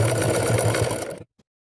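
Sewing machine stitching along the frill edge of a baby frock, a fast, close mechanical whirr that runs steadily and then stops abruptly.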